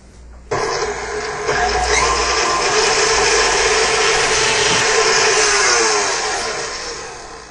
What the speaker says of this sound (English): I like to make my fillings on the mixer. What we're going to do is we're going to mix up our butter.